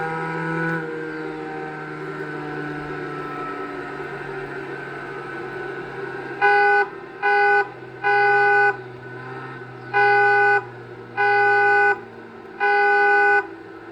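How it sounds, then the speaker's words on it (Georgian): Car horn of a Skoda Octavia A7 in the Assetto Corsa racing game, honked six times in short and longer bursts over a steady engine hum, loud and close. "მაგარი სიგნალია ძმაო."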